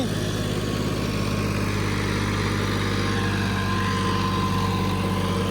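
A John Deere 5210 tractor engine runs at a steady idle-like drone, a constant low mechanical hum with a firm, unchanging pitch and no talking.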